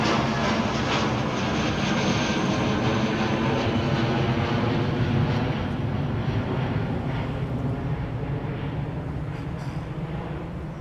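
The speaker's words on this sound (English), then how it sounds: "Tony Bankman, late departure for the American." An American Airlines airliner departs Heathrow with a loud, steady jet-engine roar that holds for the whole stretch, broadband and sustained, fading only slightly toward the end.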